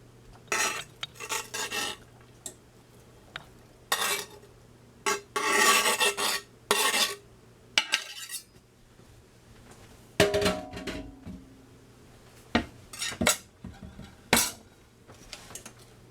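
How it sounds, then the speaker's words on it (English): Onions go into a pan on the stove for an enchilada casserole, followed by repeated rough scraping and rasping bursts from stirring against the pan, separated by short quiet gaps over a low steady hum. "I'm going to immediately add my onions."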